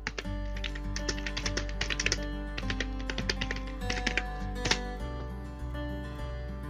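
Rapid bursts of keystrokes on a computer keyboard as a search term is entered in a web store, close and fairly steady, with short pauses, over continuous background music.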